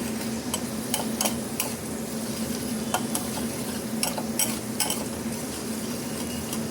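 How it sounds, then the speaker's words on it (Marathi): Plenty of garlic frying in hot oil in a kadai, a steady close sizzle broken by repeated scrapes and taps of a spoon stirring against the pan. "त्यानंतर कढईमध्ये तेल गरम करून त्यावर भरपूर असा लसूण घातला आणि मस्त लसूण फ्राय करून घेतला"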